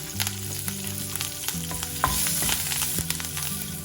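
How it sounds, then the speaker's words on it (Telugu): Dry red chilies, green chilies and curry leaves fry in oil as a tempering for street-style chicken 65, with a bright continuous sizzle and several clinking stirring strokes close up. "దానిలో ఇప్పుడు ఎండుమిరపకాయలు వేసి దీనిలోనే 2-3 పచ్చిమిరపకాయలు వేసి వేయించుకుందాం"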